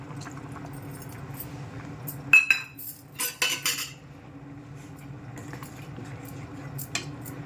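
A spoon stirs a mixture in a metal cooking pot with scraping and clinking strokes, loudest in a cluster of sharp knocks midway, over a low steady background.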